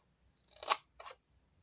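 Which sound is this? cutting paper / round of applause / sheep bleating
cutting paper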